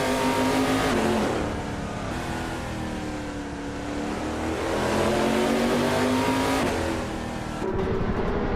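Race car engines, including a 2017 Norma M30 prototype, roar steadily on circuit, with rising and falling engine notes as cars accelerate and pass, loud and continuous with no talk.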